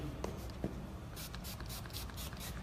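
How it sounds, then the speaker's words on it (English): Arrojo Hydro Mist, a lightweight spray conditioner, sprayed onto hair during a haircut in a series of quiet, short hissing pumps in a steady rhythm, close and faint against room noise. "This is Arrojo Hydro Mist. It's a lightweight spray conditioner."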